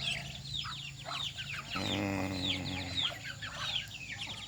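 Free-range village chickens and ducks cluck and chirp around a farm, a dense chorus of short calls with one drawn-out squawk rising in the middle, moderately near and with no talking.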